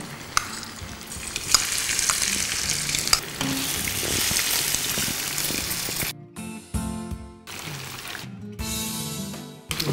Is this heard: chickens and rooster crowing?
no